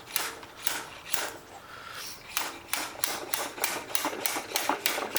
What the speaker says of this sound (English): Give it one more bash with the slide hammer and see how that goes.